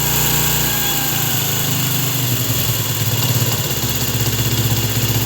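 A Honda CD70 motorcycle engine revving at raised idle, loud and close, a steady buzzing hum with slight fluctuations throughout.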